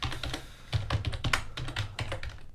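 Rapid keystrokes on a computer keyboard while writing code, an uneven run of close, crisp clicks and taps with brief pauses, heard alone without talk.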